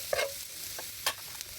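Carrots frying in a pan as they are stirred, with a soft sizzle in the background and a few brief scraping stirs.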